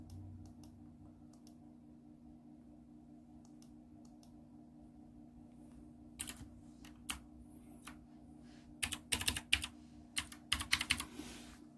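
Quick bursts of typing on a mechanical keyboard, sharp clicky key strikes arriving in clusters over a steady low room hum, sparse at first and then denser and louder toward the end.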